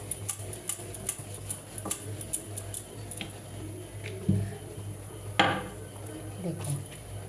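Momo dough being rolled out with a rolling pin on a floured surface, giving soft, irregular taps and knocks with light scraping over a steady low hum, a couple of louder bumps near the end.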